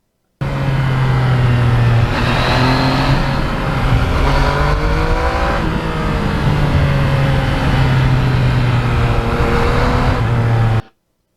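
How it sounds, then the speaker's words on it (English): A 2020 Yamaha MT-09 motorcycle fitted with carbon fibre parts pulls hard through the gears on a quick shifter. The engine note climbs steadily, dips sharply at each quick upshift and climbs again, loud and continuous with no talking. "I just never get sick of going through the gears with that quick shifter"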